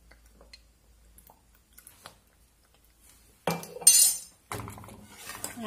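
A spoon stirs a thickening date dessert mixture with orange blossom water in a saucepan, giving a few scraping clinks and wet squishing sounds that grow louder near the end, with no talking.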